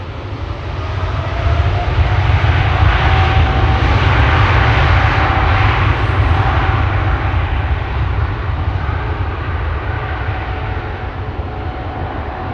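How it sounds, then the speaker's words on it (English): A Finnair airliner arriving at Schiphol Airport produces a loud, continuous jet engine roar with a deep rumble and a faint steady whine, holding even for the whole stretch with no talk. "Finnair just arrived"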